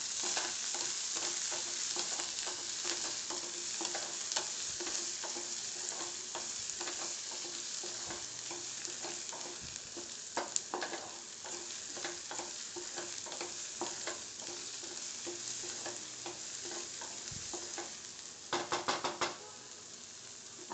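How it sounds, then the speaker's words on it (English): Garlic sautés in a pan with capsicum for black pav bhaji, giving a steady, soft sizzle under repeated spatula scrapes and stirs, with occasional knocks against the pan and a brief clatter near the end. "So I am adding garlic to it. I'll saute it."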